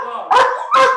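A dog barks twice in quick succession, close and loud, during a tense police confrontation indoors, with a voice faintly underneath.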